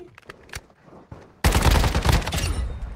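Sustained automatic gunfire bursts loudly in Warzone Mobile after a quieter stretch of scattered single shots, the rapid volleys dense and close for the rest of the moment.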